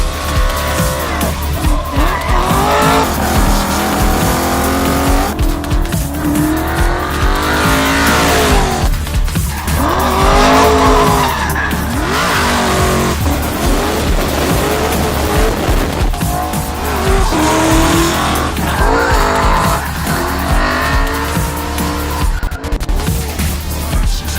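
A Ford Mustang RTR-X race car drifts sideways at about 90 mph, its tires squealing in long sweeping screeches over a loud, revving engine that rises and falls throughout.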